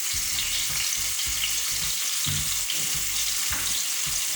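Cumin seeds crackle in hot oil over a low flame while eggplant curry is being made, a steady broadband sizzle with bursts of low thumps running throughout, close and fairly loud with no talking.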